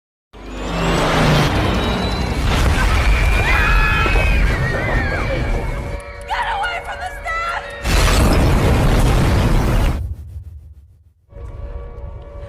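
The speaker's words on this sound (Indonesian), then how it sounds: "Tanpa ragu, mereka semua memborbardir sekolah dengan puluhan bom." Bombs exploding in a film as warplanes bomb a school: a loud opening blast runs into sustained rumbling roar and debris, a quieter interval, then another heavy burst before the noise fades away.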